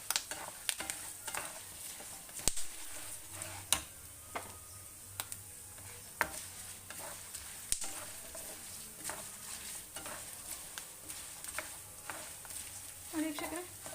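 Onions go into a pan of frying peanuts for masala chitranna, giving a faint, soft sizzle punctuated by sharp, scattered clicks and taps of a utensil against the pan.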